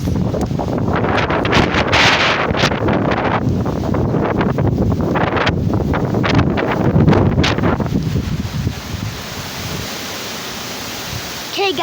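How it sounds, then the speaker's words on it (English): Strong wind from a windstorm buffets the microphone in a loud, continuous roar with gusty surges. Muffled voices can be heard under it for the first two-thirds, and the rush eases slightly near the end. "Guys, it's so windy."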